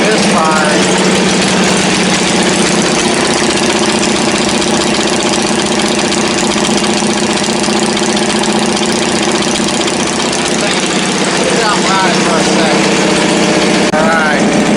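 A car nicknamed The General idles steadily up close, its loud, even engine rumble running throughout with slight uneven knocking, while someone talks at times over it.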